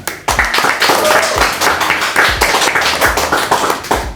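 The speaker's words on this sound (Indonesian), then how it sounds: "Itu tepuk tangan" Clapping from a group at a police academy cadet regiment gathering, loud and near, in a strong rhythmic pattern of repeated, roughly regular claps throughout.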